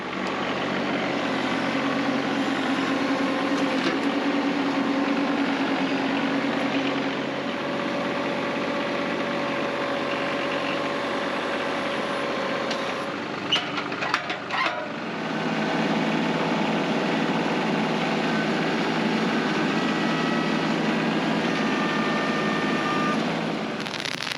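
A loud engine drones steadily nearby, briefly shifting and rattling midway before settling back into a constant rumbling run.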